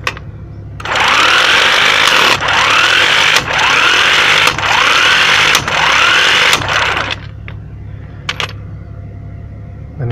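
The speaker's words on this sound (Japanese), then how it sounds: "このメルテックの FT09P インパクト電動レンチ、まあ一応できる" A Meltec FT-09P electric impact wrench tightens wheel nuts while studless tyres are swapped on a Suzuki Every, its loud hammering burst repeating four times in even pulses over a low steady hum, then stopping, followed by a few faint clicks.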